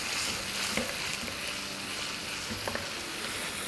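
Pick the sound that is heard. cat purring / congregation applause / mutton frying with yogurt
mutton frying with yogurt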